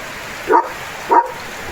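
Leo the dog barks twice at heavy rain, two evenly spaced woofs about half a second apart, fairly close over a steady hiss of rainfall.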